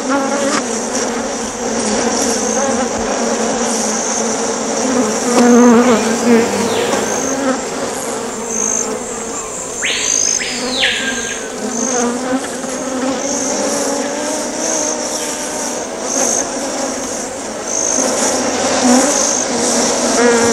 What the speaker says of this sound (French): D'en bas, nous ne percevons qu'un bourdonnement